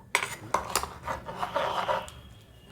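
A cooked pot of mutton keema ghugni with peas is lifted off the stove, giving a few sharp metallic clanks and scrapes of cookware, close and fairly quiet, with no talk.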